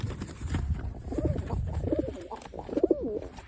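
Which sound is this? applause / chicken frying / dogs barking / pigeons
pigeons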